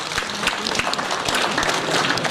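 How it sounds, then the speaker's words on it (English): Audience at a development dialogue event clapping for a student who asked a question, a dense, steady patter of many hands at moderate distance for a couple of seconds. "Can you give a clap for her?"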